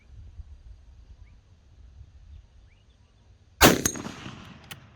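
One sharp, loud gunshot from a CZ 527 .223 carbine rifle cracks out near the end of a quiet outdoor stretch and trails off in a short echo.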